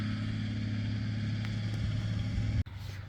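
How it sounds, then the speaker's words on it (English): Farm tractor working a field, a steady low engine drone heard at a distance and fairly faint, ending in an abrupt cut near the end. "Sorry about the tractor noise in the background."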